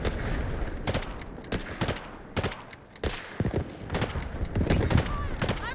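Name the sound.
sniper rifle gunfire in the video game Delta Force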